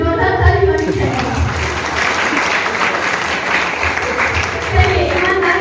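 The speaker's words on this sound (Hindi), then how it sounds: "सबके लिए जोरदार ताली होनी चाहिए" Loud, sustained applause from an audience at a training session in a Patna venue fills the room throughout, with some voices mixed in beneath the clapping.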